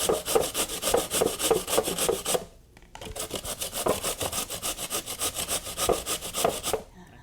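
Lotus root is rasped against a grater in quick, rhythmic back-and-forth strokes, loud and close, pausing briefly twice before resuming, with no talking.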